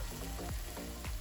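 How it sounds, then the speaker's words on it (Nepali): Water poured into a sizzling pan of tomato and potato curry hisses and crackles quietly, with a few brief scraping clinks. "अब म यसमा पानी राख्दैछु"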